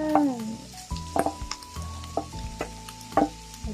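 Shredded chicken hits a hot pan and sizzles while being stirred, with bursts of crackling and scraping spoon strokes repeating every second or so at close range.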